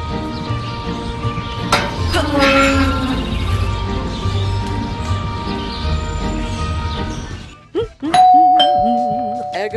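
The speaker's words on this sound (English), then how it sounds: "There goes that stupid bell again!" A doorbell in the Scary Teacher 3D game chimes sharply over a busy game soundscape with cattle-like mooing and effects, then rings again clearly near the end.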